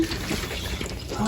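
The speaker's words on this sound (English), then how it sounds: "dump out that water and put some more water in there. Slosh it around." Water sloshes inside a glass canning jar with a rag swirling around during jar cleaning for home-canned green beans, a close, continuous watery churning at moderate level.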